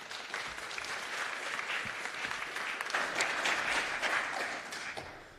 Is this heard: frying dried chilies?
no